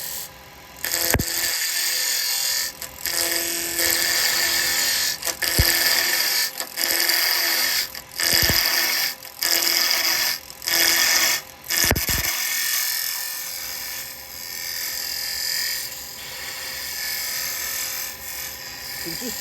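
Wood lathe turning with a carbide chisel, a steady high whirring cut broken by short pauses as the tool is lifted, close and loud, with someone speaking in between.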